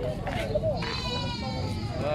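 Goats bleat a few times in the background while people talk nearby over a steady outdoor murmur, at an animal market in San Carlos City, Pangasinan, Philippines, with chickens also present.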